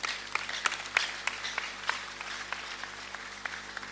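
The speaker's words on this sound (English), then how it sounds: "yes, you need to clap well." An audience claps during a leadership and accountability lecture. Moderately faint, scattered applause has distinct individual claps over a steady low hum, and no one speaks.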